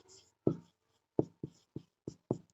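Chalk or marker strokes tap and scrape across a board in short, separate bursts during a Hindi grammar lesson, close and clear in an otherwise quiet room.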